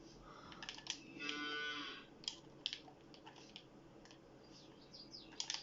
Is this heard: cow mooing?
yes